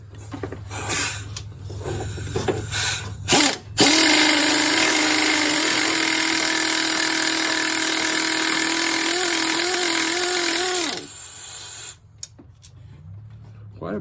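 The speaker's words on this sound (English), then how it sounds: "Now we'll get her air ratchet out." Air ratchet spinning off engine bolts on a 2008 Malibu: a sustained loud, high whirring burst of about seven seconds that stutters at the end, preceded and followed by shop clatter and voices.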